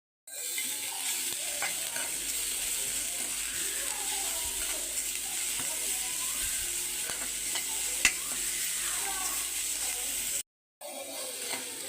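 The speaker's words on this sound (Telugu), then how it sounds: "స్టవ్ని లో ఫ్లేమ్లో పెట్టి మసాలా మిక్స్ చేసుకుందామండి." Masala with chaat masala, samosa masala and salt stirred and fried in a pan on a low flame, a steady close hiss of sizzling with soft scraping strokes throughout.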